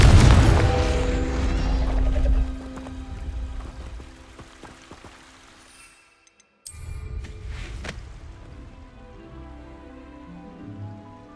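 A Confringo fire spell in Hogwarts Legacy bursts with a loud booming blast that crackles and decays into rumbling debris, followed by a brief sharp crack and a lower, settling tail.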